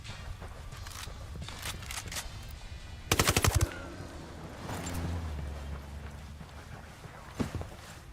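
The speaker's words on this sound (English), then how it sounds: "Just traded gunshots with a bunch of thick-skinned sicarios here in Espiritu Santo." Gunfire in the video game Ghost Recon Wildlands, a short rapid automatic burst in the middle over a low ambient bed, with scattered thuds, a low rumble afterward and a single sharper shot near the end.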